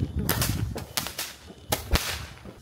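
Several sharp pops and cracks go off in quick succession, nearby and loud, with faint background chatter.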